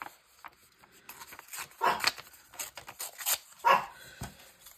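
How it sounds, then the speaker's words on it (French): A dog barks repeatedly at close range, several sharp, loud barks in an irregular burst, with softer yips and whimpering between them. "Et il peut aboyer pendant un temps infini"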